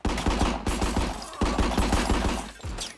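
Rapid Uzi 9mm gunfire from the video game RICO rattles in loud, continuous bursts with short breaks between volleys, filling the whole stretch.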